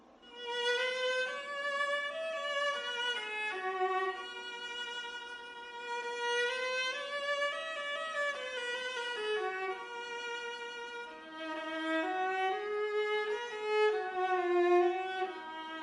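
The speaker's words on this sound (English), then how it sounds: "And that is the viola." A viola, slightly larger and lower than a violin, plays a flowing bowed melody in a warm middle register, sustained and legato, heard alone at moderate volume.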